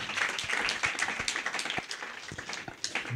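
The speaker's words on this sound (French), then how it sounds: "Vous pouvez quand même applaudir pour elle" Audience applause at a gospel talent casting ceremony, scattered individual claps over a steady wash of clapping, moderately loud and continuous throughout.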